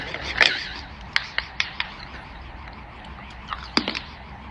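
Several sharp, brittle crunches from biting into hard baked pumpkin, scattered irregularly with quieter rubbing and chewing between them, close up.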